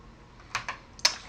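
Light typing on a computer keyboard, a few soft separate key taps with brief gaps, close and quiet with no talk.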